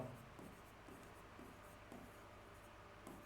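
Writing on a classroom board, a quiet series of scratchy marker or chalk strokes in short bursts, close and faint in a quiet room.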